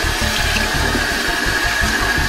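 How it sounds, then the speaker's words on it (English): Running water from a tap splashes steadily onto a face before shaving, a loud close stream with irregular splashing and no talk. "next, put some water on your face."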